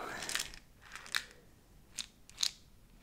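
A plastic pill bottle of acne medicine has its lid worked open, giving four crisp, close snaps and clicks spaced across a few quiet seconds.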